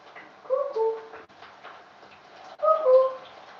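A voice imitates a cuckoo in a home kitchen, with a two-note cooing pattern heard twice, close and moderately loud, separated by a quiet pause.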